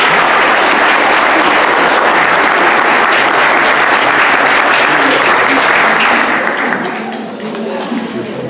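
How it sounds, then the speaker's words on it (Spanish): An audience at a choir concert applauds loudly and continuously, a thick wash of many hands clapping that holds steady for several seconds and then tapers off toward the end. "Un aplauso, por favor."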